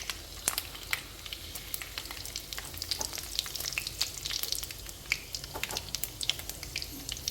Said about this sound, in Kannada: ಸೊ ಒಣಮೆಣಸಿನ್ಕಾಯಿ ಹಾಕಿದ್ಮೇಲೆ ಸ್ವಲ್ಪ ಈ ರೀತಿ ಫ್ರೈ ಮಾಡ್ಕೊಳ್ಳಿ.